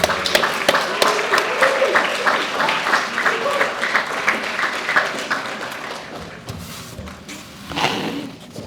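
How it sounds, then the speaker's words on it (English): An audience applauds a speaker, Mr. Steve Ford, Virginia's Director of Medicaid, at a summer reading event; steady clapping from a crowd fills most of the stretch, thinning toward the end with a brief swell near the close. "Let's give him a round of applause."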